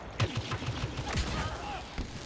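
Gunfire in the video game Star Wars Battlefront comes as a rapid burst of short, close shots. Further scattered blasts follow over a busy battle background.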